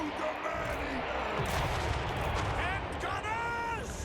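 Gunfire booms from a Total War Warhammer 3 battle, rising out of a dense, constant wall of game noise and music, with a voice speaking over the action.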